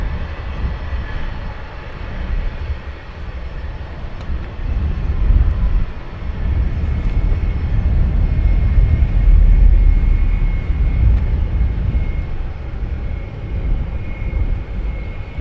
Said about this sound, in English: Ryanair next departure